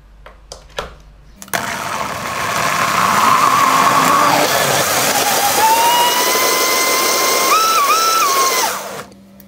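A kitchen blender mixing raw gazpacho runs steadily for about seven seconds with a loud whirring motor whine that shifts pitch as the contents churn, after a few short clicks and knocks beforehand.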